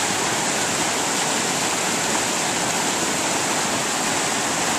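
Creek water during spring runoff rushes in a dense, constant roar, loud and unbroken, like a nearby swollen stream with no pauses or voices.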